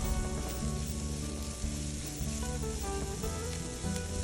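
Sliced shallots and curry leaves frying in a pan for a ridge gourd kuzhambu, a soft continuous sizzle heard alongside steady background music.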